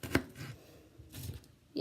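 Knife chopping ingredients for a chicken stew on a cutting board, a few distinct close thuds spaced apart, fairly quiet with soft scraping between cuts.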